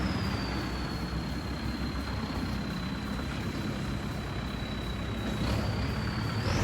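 A Kubota L5018 4WD farm tractor fitted with a dozer blade drives along with a steady, loud diesel engine drone and rumble, plus a thin high whine riding on top, with no talking.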